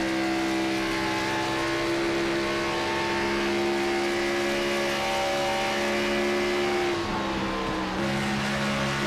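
A race car at Charlotte Motor Speedway revs hard and shifts up through the gears, its loud, steady engine drone rising in pitch and dipping briefly at each gear change.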